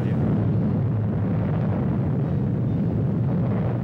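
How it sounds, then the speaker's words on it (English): A hydrogen bomb test blast on archival film rolls as a loud, continuous low roar and rumble, sustained and heavy with no voices over it. "Mike, the first so-called hydrogen bomb, is test-fired"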